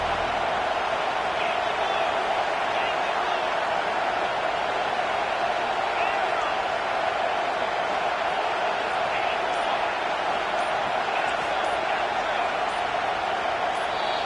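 Home stadium crowd at an American football game, a steady dense roar sustained throughout, loud and unbroken with no distinct peaks.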